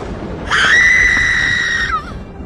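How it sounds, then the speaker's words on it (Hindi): A loud, painful scream rings out from inside a village hut during a storm, one sustained high cry lasting over a second before breaking off, over a low rumbling background. "अचानक झोपड़ी के अंदर से एक दर्दनाक चीख सुनाई दी"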